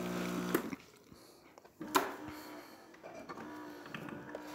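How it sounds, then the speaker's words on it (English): A Gaggia Accademia espresso machine extracting a shot gives off a steady, close mechanical pump hum with a few sharp clicks and knocks along the way. "we have a nice shot of espresso coming out from this machine"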